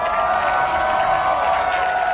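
A large arena crowd at a North American League of Legends LCS match between CLG and Cloud 9, cheering and applauding in a steady, dense roar that holds for the whole stretch.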